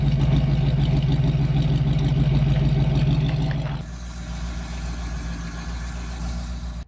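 A 1931 Ford roadster hot rod pickup with a Chevy 327 cubic inch small block, performance cylinder heads and a Turbo 350 automatic runs loud and steady at idle with a deep rumble, then drops to a quieter, more distant idle.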